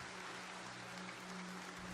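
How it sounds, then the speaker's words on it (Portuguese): A church congregation claps together in a dense, continuous wash of applause, heard indoors with a low steady hum underneath and no pause across the two seconds. "Você pode dar uma salva de palmas a Deus?"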